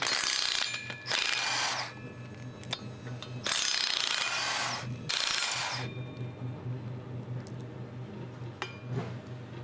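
A cordless impact wrench works engine bolts, firing off several loud rattling bursts of one to two seconds each with short pauses between, close up over a steady low background hum.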